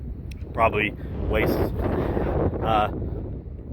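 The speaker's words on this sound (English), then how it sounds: "it's really windy" Gusty wind buffets the microphone with low rumbling bursts while a person speaks briefly.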